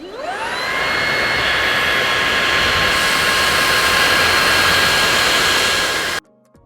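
A Chinese cordless vacuum cleaner, a budget rival to Xiaomi, starts with a rising whine, then runs at a loud, steady high-pitched roar with a tonal motor hum for several seconds before cutting off abruptly.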